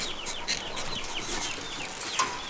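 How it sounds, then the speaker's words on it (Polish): Silkie chickens and a Silkie rooster clucking in an outdoor run, a steady mix of soft chirps and clucks at close to moderate distance without talking. "Silki wyszły. Kogucik też już wychodzi, pięknie, patrzcie."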